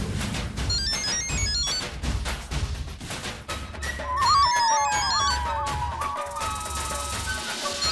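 A mobile phone plays a melodic ringtone continuously, fairly loud and steady, with no one talking over it.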